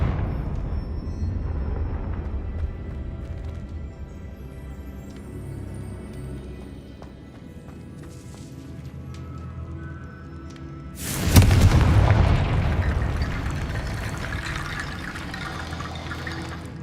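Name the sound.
Confringo explosion spell in Hogwarts Legacy, video game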